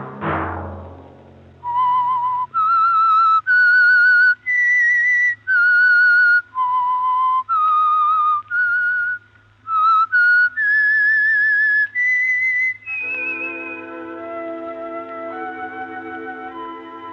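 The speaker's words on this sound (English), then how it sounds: "Let that whistle be your signal for the Signal Oil program, The Whistler" A whistled theme melody for The Whistler mystery radio program: a lone, clear whistle carries a slow tune of sustained notes, then an orchestral chord swells in to close it out.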